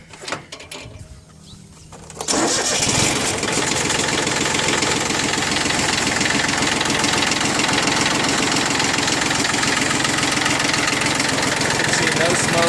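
A Yanmar F15D compact tractor engine starts after a short pause and settles into a loud, steady diesel idle with a rough, knocking rumble that continues unbroken to the end.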